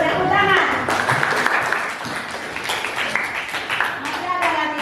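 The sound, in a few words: classroom applause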